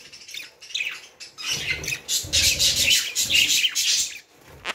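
Budgerigar chicks in a nest box squawk and rasp loudly up close, with harsh bursts overlapping in a dense chorus, a brief lull, then a final squawk.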